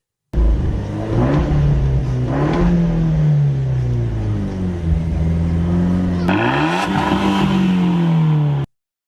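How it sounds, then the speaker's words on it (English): A turbocharged Abarth 124 Spider engine growls loudly through its exhaust, revving up and down in steady swells with a sharper rise in pitch near the end, with no talk over it. "This mode also enhances the exhaust note, allowing the driver to enjoy the sonorous growl of the turbocharged engine."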